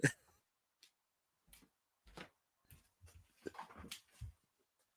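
A dog whimpers and yips in short bursts, several brief whines spread across the clip with quiet gaps between them, heard fairly close in a room where no one is talking.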